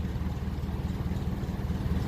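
A 1957 Ferguson 35 tractor running on TVO idles at around 600 rpm, a steady low, close engine thrum with an even, rapid pulsing beat.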